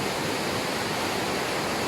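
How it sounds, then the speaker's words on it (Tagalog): Powerful rushing water roars steadily and loudly at Prenza Dam in Marilao during a typhoon, a dense continuous torrent close by with no pauses. "Sobrang lakas ng agos ng tubig."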